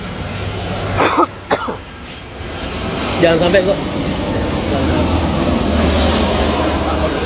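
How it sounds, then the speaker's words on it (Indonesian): An airplane passes overhead as a broad, steady roar that swells toward the end, beneath people talking and a cough. "Pesawat lewat kok"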